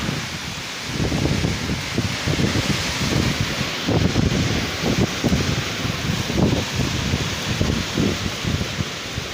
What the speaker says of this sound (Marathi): वारही खूप आहे.